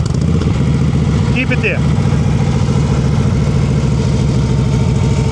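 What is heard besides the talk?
motorcycle engine nearly stalling with low preload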